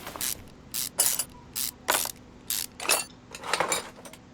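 Rusty screws being removed in Car Mechanic Simulator 2021 come through as a series of sharp, evenly spaced mechanical ratcheting bursts, about eight in a row, loud and close with short gaps between.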